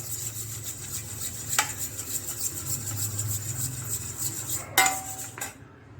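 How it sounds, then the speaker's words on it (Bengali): A utensil whisking yogurt (dahi) in a bowl, a soft rhythmic scraping and stirring at close range, with two sharp clinks against the bowl near the end. "দইটাকে ভালো করে ফেটিয়ে নেব।"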